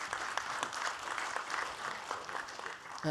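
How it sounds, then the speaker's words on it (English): An audience claps steadily at a climate, food and agriculture panel event, a dense even wash of hands lasting throughout without pause. "Big applause."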